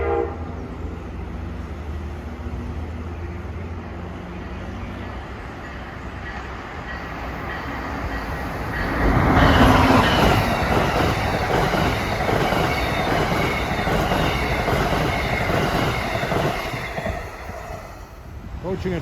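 An Amtrak train arrives at a New Haven Line platform at Mamaroneck, its rumble swelling loudly midway and carrying on as the cars roll through, with a horn sounding under the steady rail noise.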